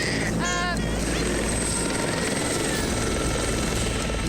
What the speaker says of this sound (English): the aircraft is still churning, still burning